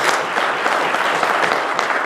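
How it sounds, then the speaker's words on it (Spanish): A church congregation claps loudly in praise of God during a Sunday morning service, a brief, dense burst of applause with no voice over it. "¿Por qué no le damos un aplauso fuerte al Señor esta mañana"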